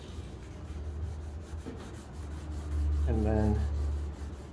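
FiberTex abrasive pad rubbing along a ski base, a steady close scrubbing that grows louder midway, with a brief spoken phrase over it.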